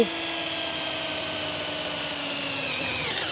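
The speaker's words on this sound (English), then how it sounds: "The other thing I'm really keen to know is drill a hole on a angle." A power drill bores a hole at a 22.5-degree angle through a precision multi-angle drill guide, a steady whining motor tone held alone for a few seconds with a slight shift near the end.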